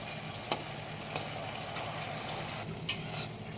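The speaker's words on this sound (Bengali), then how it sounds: "এইভাবে অল্প নাড়াচাড়া করে আলুগুলো দিয়ে দেবো।" Potatoes frying in a pan, a soft steady sizzle broken by a few sharp scrapes and clinks of a spoon stirring against the metal, with a brief rattling burst near the end.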